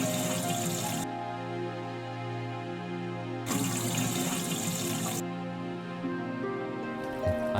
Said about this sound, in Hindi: उसमें भी तुमको पानी भरना होगा। जाओ, जाकर पानी भरो।